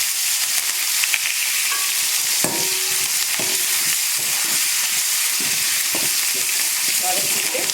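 Shallots, tomato and curry leaves sauté in a hot pan with a steady, dense sizzle and hiss throughout. Occasional scrapes and knocks of a stirring spoon sound up close, with no talking.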